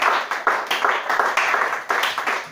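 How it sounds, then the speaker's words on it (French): A church congregation claps together to acclaim the Lord Jesus Christ, a loud, close, fairly rhythmic burst of hand claps from a group, continuous and energetic throughout with no talk over it. "On acclame le Seigneur Jésus-Christ."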